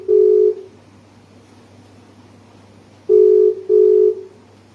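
A telephone line gives short steady tone beeps while a call is being placed: one beep, a long pause, then two beeps close together, loud and clear over a faint hum.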